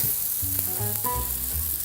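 Breakfast eggs and sausage cooking on a griddle give a close, steady sizzle, while brief clinks and tones of kitchen activity sound over it. No one speaks.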